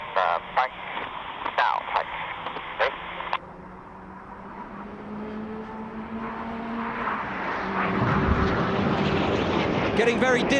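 A Red Arrows jet flying a rolling aerobatic display at the Goodwood Festival of Speed, a steady building roar that swells louder toward the end, with a commentator talking over the start.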